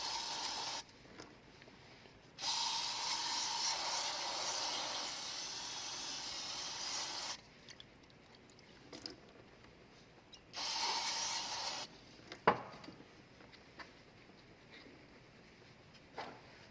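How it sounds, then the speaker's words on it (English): Brake cleaner sprayed onto the oil filter housing of a 2012-2019 Dodge Ram 3.6L Pentastar V6, faint hissing sprays in two longer bursts and one shorter one, with a small clank near the end. "make sure you use some brake cleaner to clean off the housing itself"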